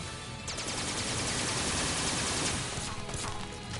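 Shots from the default starting pistol in SAO Fatal Bullet ring out in quick succession, loud and close, forming a dense continuous volley with a few brief gaps.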